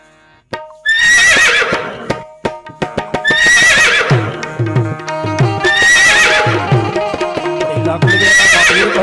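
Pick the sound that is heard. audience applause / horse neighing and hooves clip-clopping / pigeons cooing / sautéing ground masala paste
horse neighing and hooves clip-clopping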